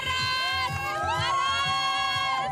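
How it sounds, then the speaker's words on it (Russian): Spectators along a triathlon course cheering and shouting encouragement to passing athletes, a busy crowd din with rising whoops and voices layered over steady background noise. "Так спортсменов подгоняют болельщики."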